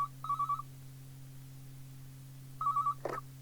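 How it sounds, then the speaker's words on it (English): Telephone ringing in a 1992 Fireman Sam audio story: two short electronic trilling rings with a pause between, clear and close over a low steady hum. "when the phone rang"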